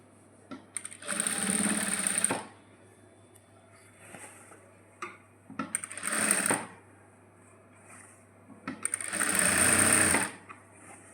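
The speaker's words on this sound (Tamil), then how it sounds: "டபுள் ஸ்டிச் போடணும்." Sewing machine stitching a double seam on a nightie sleeve, three close, fast mechanical whirring bursts of about one to two seconds each, separated by quieter pauses with faint handling clicks.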